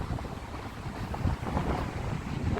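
Wind gusting steadily across a microphone on a beach boardwalk, a broad rumbling buffet that is fairly faint and continuous throughout.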